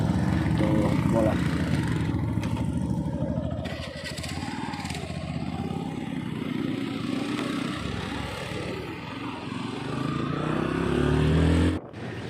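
A motorcycle engine, just started after some trouble, runs with an uneven, fluctuating putter up close, revving and easing for several seconds before a brief sharp drop near the end.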